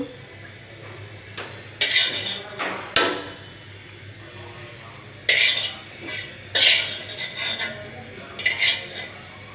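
Pre-fried hilsa fish pieces go into a pot of curry with water, landing with a series of scraping clatters and utensil knocks against the pot, spaced irregularly at close range.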